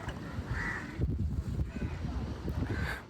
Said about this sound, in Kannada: ವಿಪರೀತ ಕಾಗೆ ಅದಾವಲ್ಲಿ